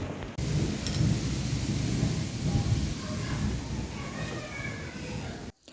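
A thunderstorm moves in with loud rolling thunder and a steady wash of rain that persists across the whole stretch, while darkness falls and the weather turns bad.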